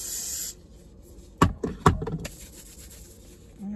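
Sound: spraying disinfectant on gloves

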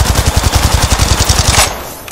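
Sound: Volt SMG gunfire in video game Apex Legends

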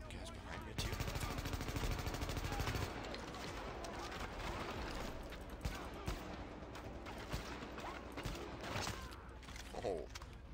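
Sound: gunfire in The Division video game

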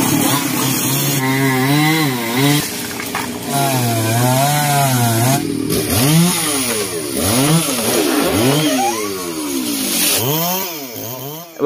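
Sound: chainsaw cutting a tree

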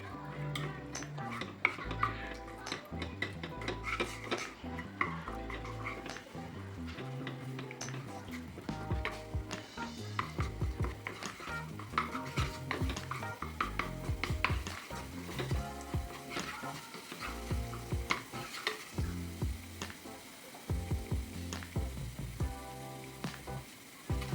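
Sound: pepper paste frying and being stirred in olive oil

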